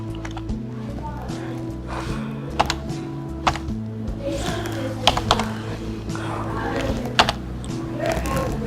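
Keys tapped on a computer keyboard while entering a library card code, a series of close clicks and a few sharper presses beneath a steady hum and a speaking voice.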